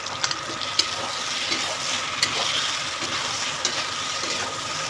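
Tomato added to a spicy crab masala frying in a pan, giving a steady close sizzle and hiss with light stirring scrapes and a few small pops, with no talking.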